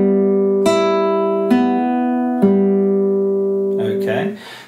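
An acoustic guitar plays a slow fingerpicked pattern, single plucked notes struck about once a second and left ringing, close and clear, before a brief rustle at the end.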